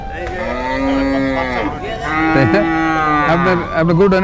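Cattle at the traditional Ashulia cattle market, gathered for Eid al-Adha sales, moo loudly and close, several long, overlapping lowing calls filling the air with a busy crowd behind.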